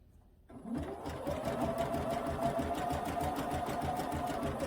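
A sewing machine runs steadily through free motion quilting on a quilt, its fast, even needle rhythm starting after a brief quiet moment and holding loud and close throughout.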